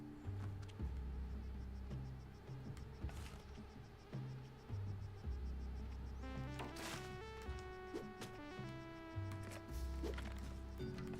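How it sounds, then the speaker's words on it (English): Mosquitoes in the jungle area of the video game Spelunky give off a continuous high insect whine, with game music and small effect sounds running underneath and no talking. "I do not like how many mosquitoes there are."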